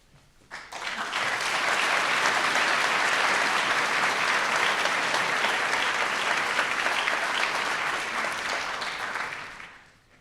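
Sustained, dense applause from a large audience at a law school first-year welcoming ceremony, swelling quickly, holding steady for about nine seconds, then fading out.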